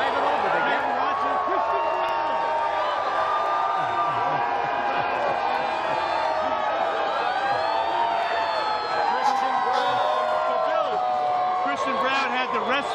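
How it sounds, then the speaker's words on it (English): A dense, roaring crowd cheers along downtown streets at the Denver Nuggets championship parade, a steady wash of whoops and shouts with talk layered over it. "Crowd is going absolutely ballistic out here."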